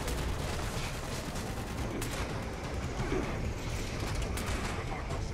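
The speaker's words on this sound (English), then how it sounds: "shooting them as we go" Rapid gunfire from shooting drones and robots in the video game Fallout 76, a dense continuous barrage of shots with no talking.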